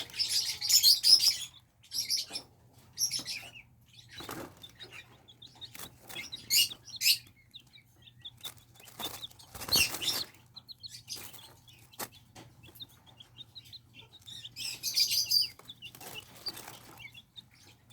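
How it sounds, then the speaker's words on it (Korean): Thirteen-day-old Silkie and Serama chicks peep while eating in a small cage, with faint, scattered high chirps coming in short bursts and clusters over a quiet background. "열심히들 소리를 내면서 낮은 소리를 내면서 먹네요."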